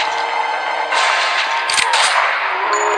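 Gunfire in an audio game made for blind players, a dense burst of sharp shots under a constant game soundtrack, with a louder crack near the middle and no talk.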